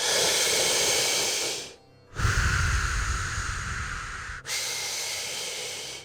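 A person demonstrating a calming breathing technique: a long, steady, close breath, a short pause, then a deep rushing inhale and another sustained exhale, loud and airy with no talk.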